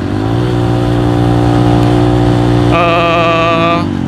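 A Honda CRF 150L motorcycle engine revs loudly and steadily at close range, its pitch jumping higher for about a second before settling back, with no talk over it.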